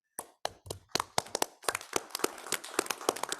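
A small group clapping in a board meeting room, starting with a few separate sharp claps that quickly build into a close, uneven round of applause.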